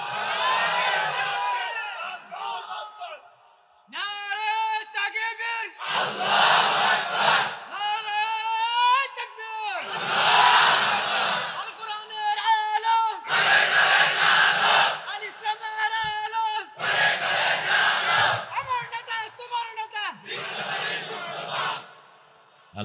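A large crowd at an Islamic sermon gathering roars takbir in repeated loud bursts, the mass chants alternating with a preacher's amplified voice leading the call between them.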